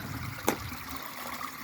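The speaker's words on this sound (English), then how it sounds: "here the water's running through pretty good" Water runs through a small stream draining from a swampy area in a South Carolina state park, a steady close trickling wash with one brief sharp knock partway through and no voices.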